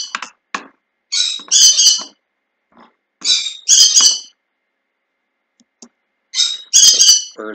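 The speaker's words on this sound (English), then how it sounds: "Bird's gonna drive me crazy." A bird in a video game squawks loudly in three separate bursts of shrill, rapid calls, each followed by a few seconds of near silence, with no talk.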